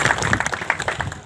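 A small audience at a foundation-stone ceremony gives brief applause, a quick run of separate claps heard close and moderately loud.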